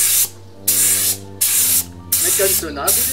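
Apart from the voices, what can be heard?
spray gun spraying paint on edges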